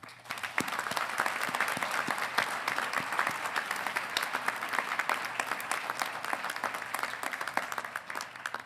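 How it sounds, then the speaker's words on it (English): A crowd at a fall university graduation ceremony applauds: dense, sustained clapping at steady volume across the whole stretch, with no voices over it. "So let's have a round of applause."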